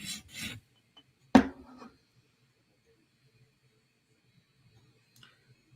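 A Protech Mordax knife is worked on a TSProf Kadet guided sharpener, giving a few short, dry rasping strokes near the start before the blade falls almost silent.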